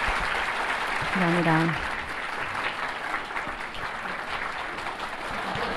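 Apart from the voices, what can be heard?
audience applause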